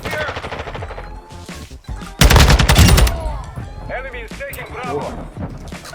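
Video game gunfire in an online shooter bursts out in a loud, rapid automatic volley midway, with lighter shots around it, while someone talks excitedly over the action.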